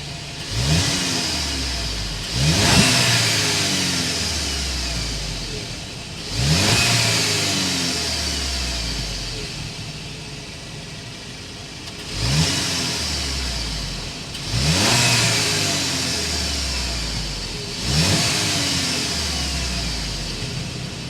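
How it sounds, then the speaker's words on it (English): A 2022 Audi A3 with a turbocharged inline four-cylinder revs up repeatedly, six loud throttle blips at uneven intervals, each climbing and then sinking back to a low idle burble, heard close to the exhaust. "Let's go inside and hear that exhaust note."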